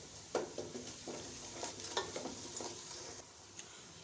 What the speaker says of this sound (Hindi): तकरीबन 2 से 3 मिनट तक हमने अच्छे से इस मसाले की भुनाई करनी है।